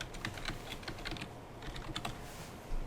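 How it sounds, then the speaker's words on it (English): A password is typed on a computer keyboard to log in to a PoE network video recorder: quick, quiet, irregular key taps one after another, close by, with no talk. "Type in the password here for your"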